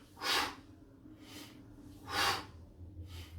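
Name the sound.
breathing out and in during a leg exercise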